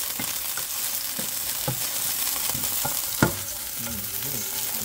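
Green onion stir-fries for a vegetable dish, a steady loud sizzle with occasional spatula scrapes and one sharp knock against the pan, close up and without talk.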